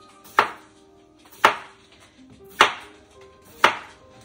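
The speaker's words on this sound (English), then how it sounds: "all I'm gonna do is get them all sliced up" Cucumbers being sliced with a knife on a cutting board, four crisp, loud chops at roughly one-second intervals, each ending in a short knock, with no talk.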